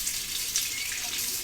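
Tap water runs steadily and close by to rinse a razor during a shave, a brief continuous hiss and splash with no voices.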